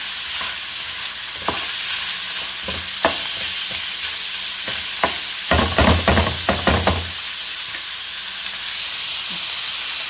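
Spaghetti sauce with still-frozen pork simmering in a pot, a steady close hiss and sizzle broken by scattered clinks and stirring scrapes, busiest in the middle, with no one talking.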